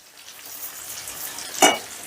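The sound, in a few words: sautéing fried onions with chili powder and sugar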